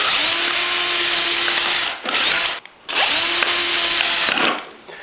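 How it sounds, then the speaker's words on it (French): A power drill bores holes through plastic cups for seedlings, whirring steadily in two long bursts separated by a short gap, close and loud, with no talking. "Je vais percer des trous dans 10 gobelets déjà."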